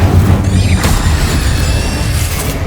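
Incendio fire spell cast in the video game Hogwarts Legacy: a loud, dense burst of crackling, rumbling blasts that roars continuously throughout without pause.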